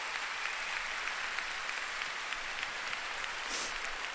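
Concert audience applauding the singer's parents at a live show in 2002, a steady dense wash of clapping that holds at an even level throughout, with no voices heard over it.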